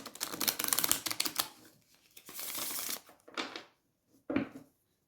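Tarot cards riffle-shuffled by hand in quick bursts of crisp papery slaps and ruffles, three separate shuffles with brief pauses between, close and alone.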